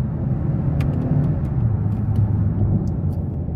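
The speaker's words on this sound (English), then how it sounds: "So I'm gonna give it a downshift here," A 2023 Hyundai Sonata SEL Plus 1.6T engine with its 8-speed automatic downshifts, heard from inside the cabin as a steady, loud low rumble with a slight rise in pitch, no talking.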